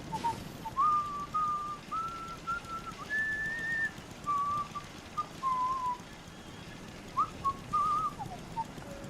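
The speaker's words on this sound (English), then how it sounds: "that is the first time I have ever heard Codsworth whistle at me" Codsworth, the robot butler in the Fallout video game, whistles a wandering tune of short, clear tonal phrases with small pauses, moderately loud over a soft ambient game background, no speech.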